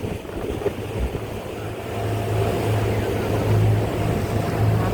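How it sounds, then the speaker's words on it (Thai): A boat motors along the river toward Wat Arun in Bangkok. A steady low engine drone and wind rush build and hold at a fairly loud level, with no speech. "นี่คือบรรยากาศข้างบนบนเรือค่ะ"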